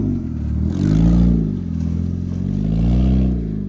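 A 2023 Outlander 1000 ATV with its exhaust fallen off revs hard while mudding through weeds, giving a loud, continuous engine roar that climbs and dips in pitch across the whole stretch.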